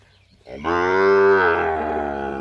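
A single long, loud moo from a Brahman-breed cow rising and holding steady, close by, with a low rumble of background noise underneath.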